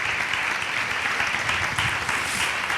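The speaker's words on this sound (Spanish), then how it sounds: "un aplauso para Andrés Llena, de verdad" A studio audience breaks into applause, a steady, dense wash of clapping heard close and loud with no voices over it.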